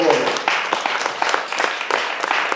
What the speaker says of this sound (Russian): Ну так воздайте аплодисменты Богу.